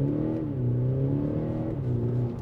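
Audi SQ5 Sportback diesel pulling hard under acceleration, a steady close engine drone with rising and shifting tones from inside the car, no talking.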